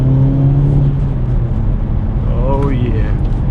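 Hyundai Elantra N engine revving after a downshift from fourth to third gear, a loud, close, rough drone that rises in pitch toward the end, with no talking.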